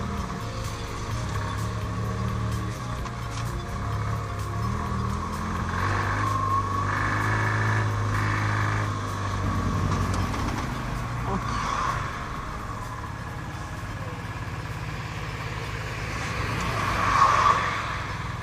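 A Ligier JS60 small car pulls away and drives on, its engine a steady low drone that rises and falls with the driving, heard under continuous speech.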